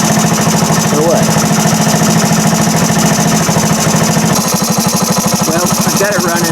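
A 1978 Indian moped engine runs continuously, close and loud, with a rough, rapid rattling putter that quickens slightly partway through.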